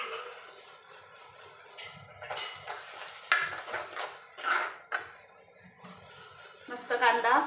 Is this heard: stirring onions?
yes